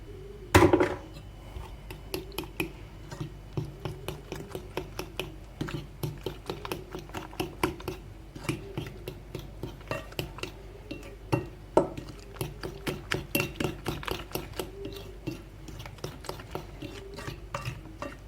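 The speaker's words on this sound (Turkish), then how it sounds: "Önce bunları güzelce bir çırpalım." A whisk clinking rapidly against a bowl while beating starch and other ingredients for a seasonal tart filling, a quick steady rhythm of light metallic taps, close and fairly faint.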